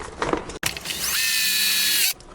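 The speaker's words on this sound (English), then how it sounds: "mark where I'm drilling the hole" A power drill fitted with a 1/4 inch bit whines up and bores a hole during work on a GY6 fuel injection kit, a steady, loud rising whir of about a second, preceded and followed by brief handling clatter.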